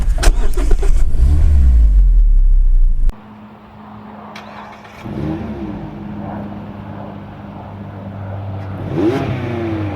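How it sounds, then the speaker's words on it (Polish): A Mazda MX-5 engine cranks and fires, then idles before a light rev of the throttle, loud and close. "Nie jest to tylko wyłącznie zapalenie silnika, ale taka delikatna przegazowa"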